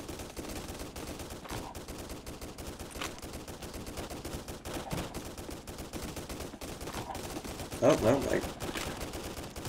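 Gunfire in the Roblox video game, a steady stream of rapid shots crackling across a distant battle like a war zone, with a brief louder burst near the end and someone talking briefly over it.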